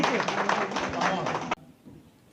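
Audience applause at a public awareness event in Bihar, a dense burst of clapping filling the hall for about one and a half seconds and then cutting off abruptly into quiet.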